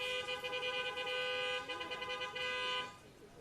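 Several car horns honk together in a sustained, overlapping blare for about three seconds during an outdoor Veterans Day ceremony, with a brief pitch wobble midway before the honking cuts off.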